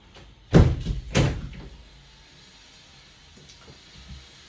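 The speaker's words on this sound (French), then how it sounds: "je vais juste pousser la fenêtre vu le bruit qu'ils sont en train de faire" Two quick knocking thuds close together, like a window being pushed shut, followed by quiet room noise.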